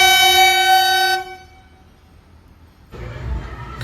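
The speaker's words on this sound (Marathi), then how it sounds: "माथेरानमधली ट्रेन आलेली आहे." A Matheran toy train sounds a long, loud tonal horn blast lasting about a second, fading into quiet before low rumbling noise from the slow-moving train.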